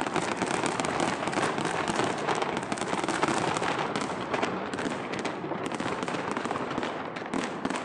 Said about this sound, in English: Cut to the fireworks